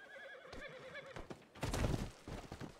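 A horse whinnies loudly in a RedM Western role-play game, with a wavering neigh followed by snorts and heavy clip-clop hoofbeats on the ground. No voices are heard.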